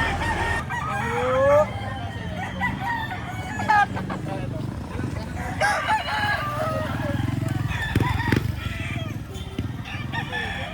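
Roosters crowing repeatedly amid a busy farmyard, with clucking hens and some voices mixed into the steady background noise.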